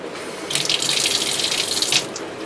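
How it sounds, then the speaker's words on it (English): Tap water runs steadily into a sink as an item is rinsed under it, a bright splashing flow that swells loudly for about a second and a half before easing back to a softer trickle. "I'm going to wash it a bit."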